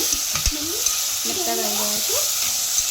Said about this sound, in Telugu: ఆనియన్ వేసి కొంచెం ఇట్లా మిక్స్ చేసుకోవాలి